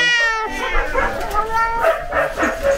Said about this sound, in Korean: 고양이들이 난리.